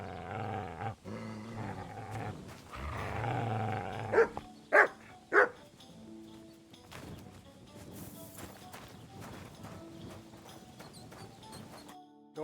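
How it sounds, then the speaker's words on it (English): A dog in Kingdom Come Deliverance 2 barks two or three sharp, close times in quick succession, with game ambience and scuffling around it. "You silly doggy."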